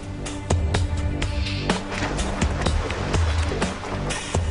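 A boat motor runs on a river, heard as a loud, close, steady churn of engine and rushing water, broken by repeated sharp splashes and knocks.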